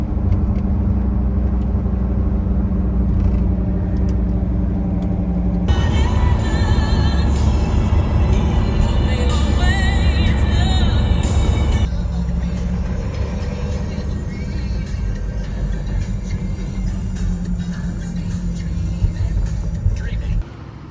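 A van climbs a road toward the Tan Hill Inn in the Yorkshire Dales, its engine and road rumble steady and loud inside the cab, with tonal shifts as the drive goes on and a voice talking over it.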